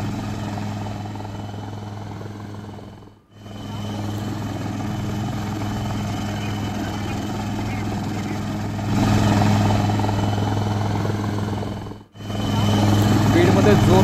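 A rescue helicopter works over a flood area, its rotor thudding in a loud continuous drone that dips briefly twice and swells louder toward the end, with voices faintly present.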